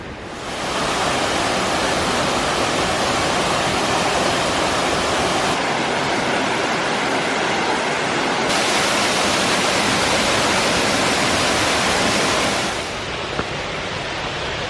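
Steady, loud roar of a waterfall in Costa Rica on a rainy day, a dense, continuous rush of falling water with no break and no voices.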